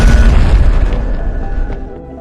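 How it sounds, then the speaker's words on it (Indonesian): An ice sphere cracking and exploding in an Avatar film, a loud deep boom that rumbles and slowly fades. "bola es itu tiba-tiba retak dan meledak hingga mengeluarkan pancaran cahaya yang menembus langit"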